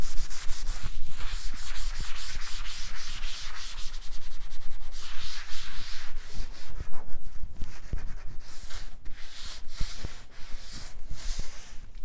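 A wooden coffee table being scrubbed with TSP cleaner, brisk rhythmic rubbing strokes back and forth, close and loud, with short pauses between passes and no talking.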